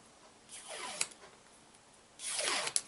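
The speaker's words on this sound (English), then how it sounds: "just kind of curl it with my bone folder" A roughly 3/4 by 7 inch paper strip being curled by drawing a bone folder along it, heard as two close, scraping swipes, each rising to a sharp tip, with no talking.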